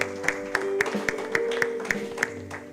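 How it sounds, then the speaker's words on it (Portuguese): A church congregation claps in a steady rhythm, sharp regular hand claps every quarter second or so over sustained music and a faint voice. "Aplauda ao Senhor."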